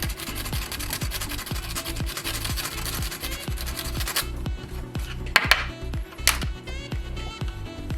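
A composite cleaning pencil scrubs crud off a lettered metal detecting find, giving a close, rapid, rhythmic scratching and rubbing with brief pauses and a few louder scrapes near the end.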